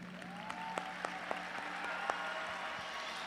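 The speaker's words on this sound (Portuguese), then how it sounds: "Eu gostaria de aplaudir vocês pela sua sinceridade" Sparse, scattered clapping from an audience at a motivational talk, a few distinct claps standing out over a low steady hum and a faint wavering tone, fairly quiet and somewhat distant.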